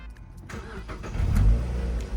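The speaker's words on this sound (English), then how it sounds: "So we're gonna start it up." A 2006 Mazda MX-5 NC1 fitted with an induction kit cranks and fires up nearby, the engine catching after a brief starter whirr and settling into a loud, rumbling idle.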